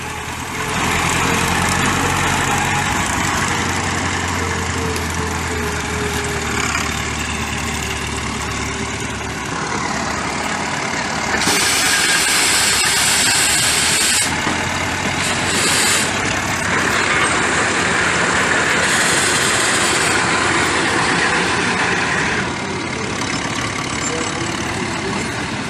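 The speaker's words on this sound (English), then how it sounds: "Here we have an old Mack truck." A heavy old Mack truck engine, about 1925, idles steadily with a deep rumble at a steam era show, close and loud throughout, its tone shifting slightly now and then.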